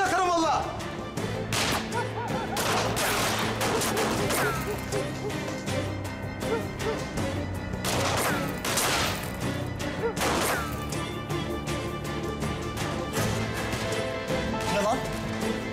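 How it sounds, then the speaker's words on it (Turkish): Gunfire in a firefight sounds as sharp, loud cracks in irregular bursts, some in quick clusters, with talk and dramatic background music throughout. "Çatışma var."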